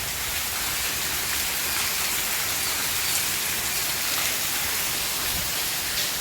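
Heavy rain pours down in a dense, unbroken hiss, loud and close, with no voices over it.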